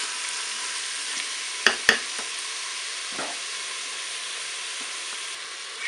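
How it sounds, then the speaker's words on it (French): Onions brown in a Cookeo multicooker with chicken thighs and potatoes, a soft steady sizzle punctuated by a couple of sharp clinks and a few quieter stirring taps. "ajouter mes oignons. Faire dorer un petit peu aussi."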